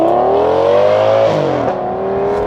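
An Audi family estate fitted with a Lamborghini V10 pulls hard, its engine note sweeping upward loud and close, then a shift drops the pitch before it climbs again.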